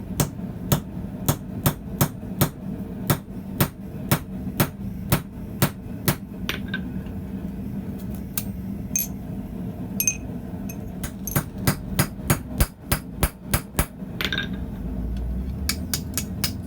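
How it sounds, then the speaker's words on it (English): Steady hammer blows drive a punch into a small piece of air-hardening steel while forging a door pull, ringing metallic strikes in a regular rhythm, close and loud, with a short pause midway before the pounding resumes. "What a bear hammering on this small piece of air hardening steel."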